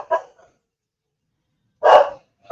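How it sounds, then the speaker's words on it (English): Dogs barking somewhere near the microphone: one short bark, a pause, then a louder, longer bark, with no talk over them. "dogs are barking."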